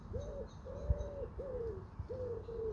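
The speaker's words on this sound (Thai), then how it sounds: "เสียงนกพิราบ" Pigeons cooing nearby, four soft, low, drawn-out coos in a steady sequence, with faint background noise and a couple of small knocks.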